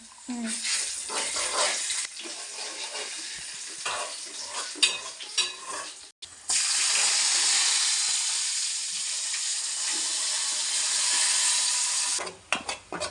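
Chicken curry with small chicken pieces and ginger frying and being stirred in a pan, a steady bright sizzle running almost continuously with a short break midway, while a voice talks over it.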